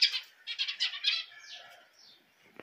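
Canaries, a male and a newly introduced female, give bright rapid chirps and short trilled bursts, close by. Quieter calls follow, then a sharp tick at the end.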